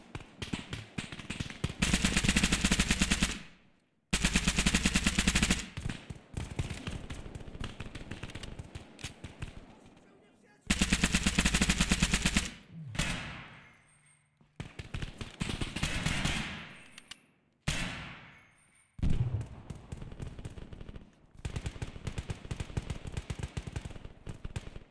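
Video game gunfire rattles in long, loud automatic bursts with brief gaps between them, dense and continuous across most of the stretch.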